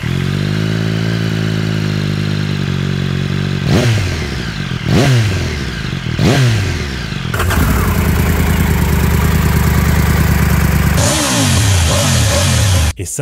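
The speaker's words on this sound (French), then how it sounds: "ajoutant au sifflement typique du 3 cylindres un son rauque et brut" A Triumph Tiger 1200 three-cylinder motorcycle engine idles with a steady rumble, then revs sharply three times before holding a loud, raspy high-rev roar and dropping back down.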